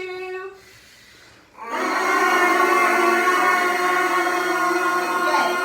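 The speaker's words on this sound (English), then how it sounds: "Will you take out the mouthpiece and buzz it?" Brass students buzz a G on their mouthpieces: a lone pitched buzz at first, then after a short pause the whole group joins in a loud, sustained, rough buzzing tone.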